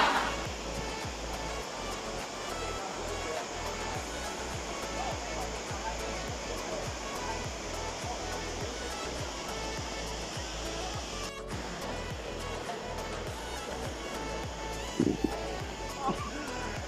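Waterfall at Pulang Bato Falls in Valencia, Negros Oriental, a dense, steady rushing roar filling the whole clip at an even level, with people talking faintly beneath it.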